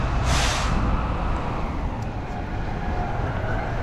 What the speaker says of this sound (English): Comes this trash truck. I think he's following me around. Goodness, super loud.